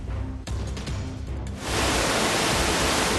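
Heavy monsoon rain and rushing floodwater in Trimbakeshwar near Nashik, a dense, loud, steady roar that swells abruptly after a quieter opening and fills the whole scene with no talking.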